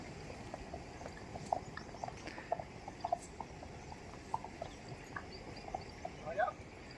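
Light, irregular hoof clops of mares and fillies walking on a hard surface, faint and spread through the clip against a steady background rumble.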